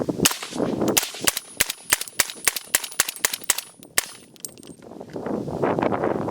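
A rapid series of sharp, muffled shots from a suppressed .300 Blackout PSA JAKL rifle in quick succession, about a dozen close cracks, followed by hissing and rustling.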